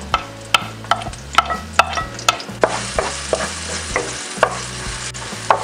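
Garlic sautéing in cooking oil with a soft sizzle under repeated stirring taps of a utensil against the pan, close up and steady.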